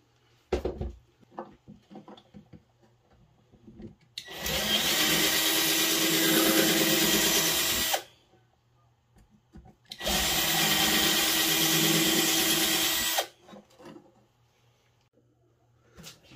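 Power drill bores pilot holes in two loud, sustained bursts of about four and three seconds, separated by quiet gaps with a few light handling clicks.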